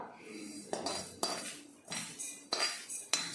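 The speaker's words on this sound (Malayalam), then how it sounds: "മിക്സിയുടെ ചെറിയ ജാറിലോട്ടൊന്ന് ഇട്ട് കൊടുക്കാം" Warm roasted coconut being tipped and scraped into a small mixer-grinder jar, giving five or six sharp metallic clinks and taps of a spoon against steel, spaced irregularly and close by.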